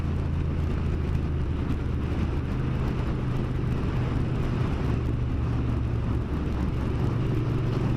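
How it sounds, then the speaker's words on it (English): An old BMW car passes on a road near Ribblehead Viaduct, a loud steady engine and tyre roar filling the whole stretch without talk. "Nice old BMW."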